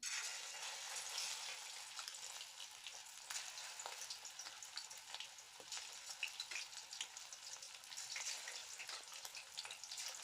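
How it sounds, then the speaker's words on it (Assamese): Chicken pieces frying in a hot wok make a faint, even, hissing sizzle with small crackles throughout and no voices. "এইখিনি মই এতিয়া ইয়াত ফ্ৰাই কৰি ল'ম"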